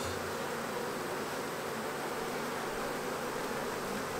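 Honey bees hum steadily around a hive box, a dense continuous buzz that fills the whole stretch with no pauses, close and even in level, with no talking over it.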